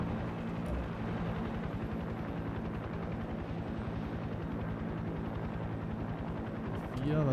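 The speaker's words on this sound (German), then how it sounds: "mit dem Helikopter zielen macht ja überhaupt keinen Spaß" Helicopter flying in the video game Far Cry 6: a steady, loud rotor chop with a pulsing beat and engine drone, continuous throughout and close up.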